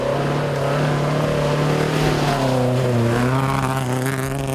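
An Escort rally car running at the 2018 Safari Rally, its engine droning loud and close with shifting pitch as it revs and eases, and a reported misfire in the engine.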